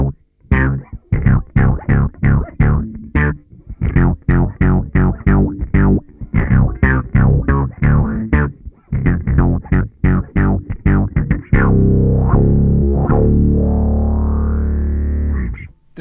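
Electric guitar played through a distortion pedal on a pedalboard, a rapid run of chugging, palm-muted distorted chords for about twelve seconds, then a single loud chord left ringing and fading, with no voices.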